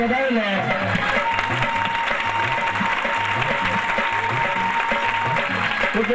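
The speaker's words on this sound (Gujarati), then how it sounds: "બધા ભક્તો તાળીના હાથથી વધાવી લે." Devotees applauding at a Guru Poonam assembly in Vadtal, a dense, continuous wash of clapping from a big crowd, with steady tonal sounds and voices mixed in.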